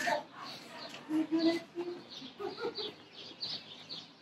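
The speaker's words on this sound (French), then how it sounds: "Regardez les oiseaux." Small birds chirping outdoors at a favourite spot, with short scattered calls coming and going over faint background noise; moderately distant and light.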